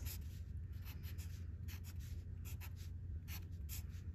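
Pen or pencil strokes on paper while a snowflake is drawn, faint and close, with quick repeated scratching marks in an uneven rhythm and no talking.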